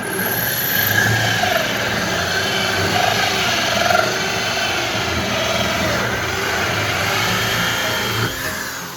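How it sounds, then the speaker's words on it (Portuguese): A 2-inch hole saw drills a hole for a temperature controller in a homemade 220 V pyrograph build, giving a loud, sustained motor whine and grinding hum that wavers slightly and runs nearly the whole time. "Vou usar agora, gente, uma serra copo de 2 polegadas para fazer o furo daqui para colocar o controlador de temperatura."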